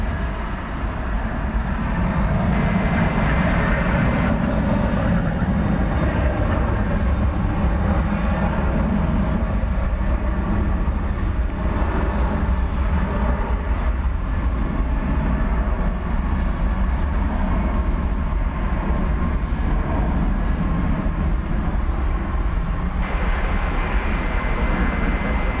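A Boeing 737-800 jet takes off from DFW Airport, a loud, steady low roar of engines that stays strong and even across the whole span with no voices.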